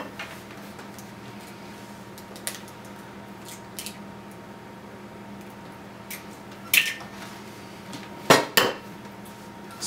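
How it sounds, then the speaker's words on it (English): Eggs are cracked onto a bacon pizza, with a few sharp, close shell taps and cracks breaking a quiet kitchen background, the clearest pair near the end and no speech. "So you want to get a good crack so that the yolks don't ooze out everywhere when you crack them."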